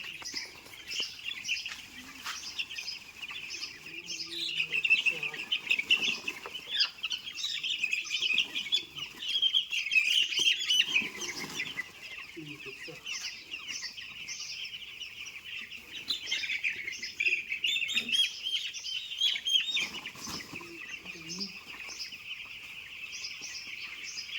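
A flock of ten chickens, about nine days old, clucks and chirps continuously, with many overlapping high peeps and low clucks from birds close at hand.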